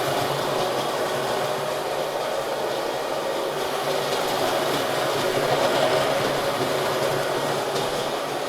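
An electric coffee grinder steadily grinds coffee beans for a French press, a continuous dense whirring buzz heard up close with no talking.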